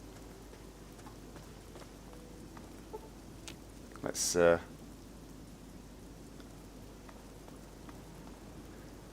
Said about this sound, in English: Sounds of light rain,